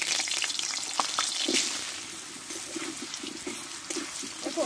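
Thick-cut potato pieces sizzle in a pan, a soft continuous frying hiss with small stirring clatters, fairly faint and without speech.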